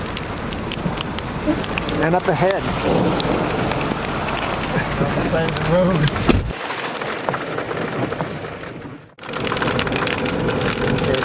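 Heavy rain falls steadily during a thunderstorm in Yellowstone after hail, drumming on a moving vehicle. Someone talks over the downpour, and the sound briefly drops out before the rain resumes.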